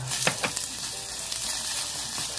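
Onion and garlic sizzle and fry in a hot pan as a Korean doenjang stew base, a steady close crackle with a few louder stirring scrapes near the start.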